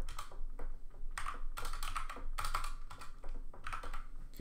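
Typing on a computer keyboard while coding a Python solution: dense, rapid clusters of close keystrokes in uneven bursts with brief gaps, fairly loud and clear, no voice.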